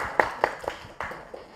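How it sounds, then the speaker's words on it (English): A few sharp hand claps ring out in a hall during a press conference, five or six spaced irregularly, close and fairly loud with nothing else around them. "That was a clap."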